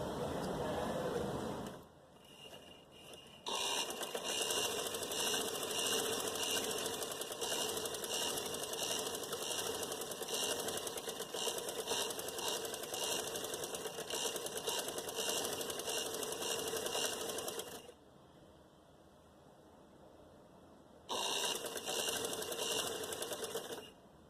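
A sewing machine stitches a marked sleeve fitting for a puff sleeve in one long, steady, close whirring run that halts near the end and then starts up again.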